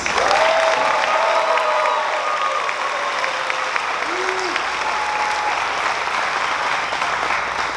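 Large graduation ceremony crowd gives another round of applause for an award recipient, dense steady clapping with a few cheers, loud and continuous from start to finish.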